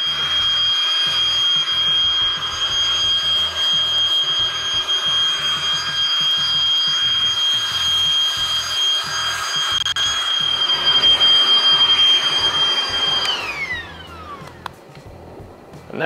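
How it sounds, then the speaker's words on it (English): A Ryobi leaf blower runs steadily and loudly close by with a sustained high whine, then powers down and winds off near the end. "now we are ready for the blower here."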